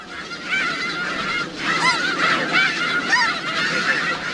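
A flock of snow geese honking loudly and continuously, many overlapping nasal calls close by.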